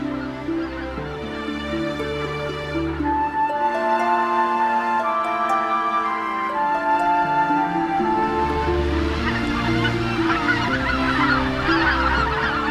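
Migrating geese honk steadily in a loud, overlapping chorus of repeated calls, with no talking.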